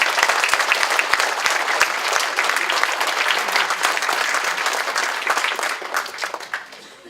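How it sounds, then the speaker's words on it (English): An audience at a DARE graduation ceremony for fifth graders breaks into loud, dense, sustained applause that gradually fades near the end. "one last round of applause for our essay winners"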